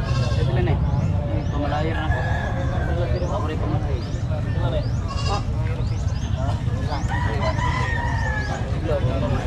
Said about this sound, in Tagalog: Daming kambing.